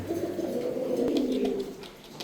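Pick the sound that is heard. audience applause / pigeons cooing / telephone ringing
pigeons cooing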